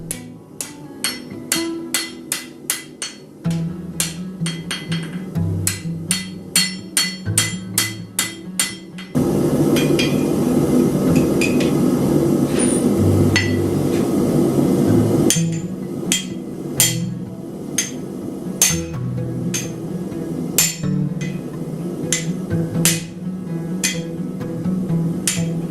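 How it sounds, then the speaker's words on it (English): A hammer rings steadily against a knife blade on an anvil during forging, with fast, bright, evenly spaced strikes in bursts, broken by a stretch of loud roaring rush before the rhythmic pounding resumes. "Side taps on the anvil give pause to study the work and where to strike next."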